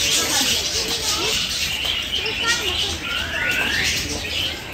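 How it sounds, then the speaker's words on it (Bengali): A caged cockatoo calls near a river, its shrill, sweeping squawks rising over a busy, noisy outdoor background with people talking nearby. "Cacatua. Oh, এটা cacatua."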